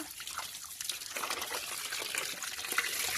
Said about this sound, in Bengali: চলুন দেখি মাছগুলো ধোয়া যায় নাকি